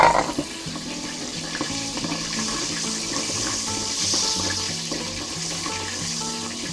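Butter melts in a hot frying pan while cooking sisig, giving off a steady, soft sizzle that hisses continuously, with faint background music.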